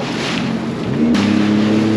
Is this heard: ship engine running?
yes